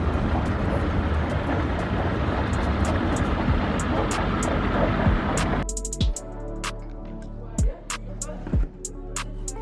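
An airliner on a steep approach into Marseille, with a broad roar of engine and airflow that drops away to quieter cabin hum broken by several sharp thumps and clicks.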